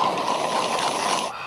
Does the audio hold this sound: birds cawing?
no